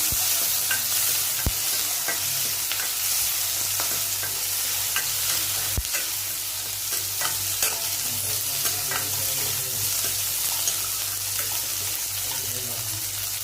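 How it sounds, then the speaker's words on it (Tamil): Capsicum and onion sauté in a pan with a constant close sizzle, broken by spatula scrapes and a couple of sharp knocks against the pan. "எல்லாத்தையும் இதில் போட்டு வதக்கிக்கலாம்."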